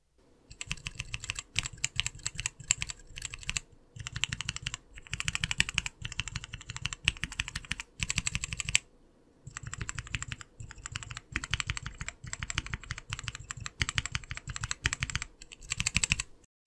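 Lubed tactile keyboard switches are typed on in rapid bursts of crisp close clicks and clacks, with a short pause midway before the steady rattle of keystrokes resumes.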